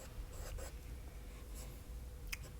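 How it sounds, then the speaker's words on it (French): Pencil strokes scratch across paper while outlining hair on a realistic portrait drawing, faint and close, in short bursts of scraping with quiet pauses between. "je commence à dessiner le contour des cheveux"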